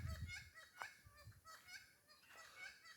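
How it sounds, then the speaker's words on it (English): Outdoors at Two Mile Creek Lookout, geese-like birds honk and call repeatedly at moderate distance, overlapping in an irregular, lively chorus. "the birds are going at it over there"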